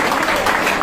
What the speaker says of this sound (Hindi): तो एक बार ताली बजाओ इनके लिए